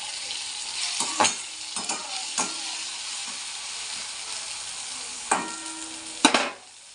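Pasta tipped into a hot frying pan in a home kitchen gives a steady, close sizzle, with a few sharp clatters and scrapes and a louder final burst before it cuts off.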